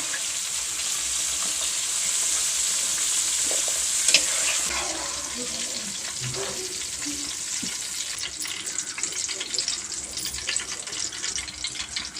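Vegetables for veg biryani frying in a pan, a continuous bright sizzle with a sharp clink near the start and irregular stirring and scraping throughout, close and steady with no talk.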